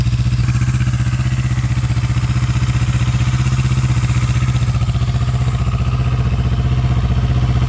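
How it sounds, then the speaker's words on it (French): A Yamaha R6 sport bike sits running after a cold start during a restoration, its engine idling with a steady throbbing drone and even rhythmic pulse, close and loud, with no talking. "Je vais mettre des petits coups de gaz que vous voyez"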